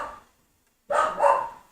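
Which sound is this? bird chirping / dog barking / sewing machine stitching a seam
dog barking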